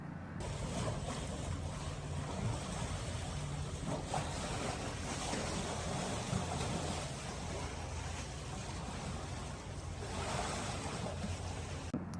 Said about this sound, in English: listening to the sound of the water splashing up against the side is really, really nice and relaxing